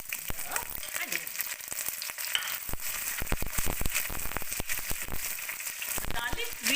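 Onion drops into hot oil already frying garlic, bay leaf and red chili, setting off a loud, steady sizzle with sharp crackles and spatters throughout, close up, with no voices.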